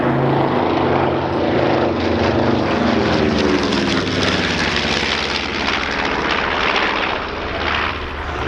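Piston engines of a B-25 Mitchell bomber at the Dunsfold Wings & Wheels airshow in 2014, a loud, steady propeller drone with a throbbing beat that holds close and continuous throughout, dipping only slightly near the end.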